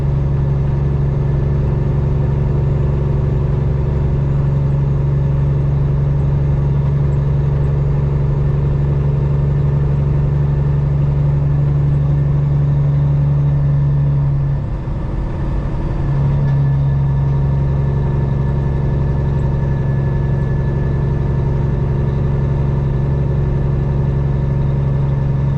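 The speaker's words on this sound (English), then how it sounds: "It's pretty loud since we did the engine swap with the 7-inch pipes" A loud, deep engine of a custom Peterbilt truck with 7-inch straight pipes rumbles steadily throughout, a heavy low drone with a strong steady hum, close by, briefly shifting midway.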